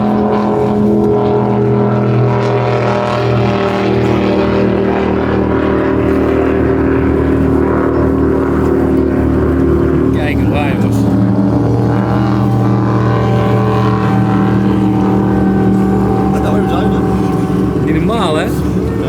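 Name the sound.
1200 hp supercharged speedboat engine roaring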